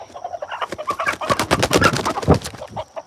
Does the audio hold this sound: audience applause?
no